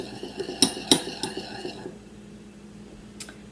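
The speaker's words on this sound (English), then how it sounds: "So I'm going to stir that up a little bit." A metal spoon clinks repeatedly against a glass while stirring solid into red cabbage indicator solution, a quick run of sharp taps that slows and stops, leaving quiet with one last faint clink.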